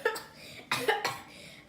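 Two sharp coughs ring out close by, one at the start and a stronger double burst partway through, followed by a quieter tail, with no talk over them.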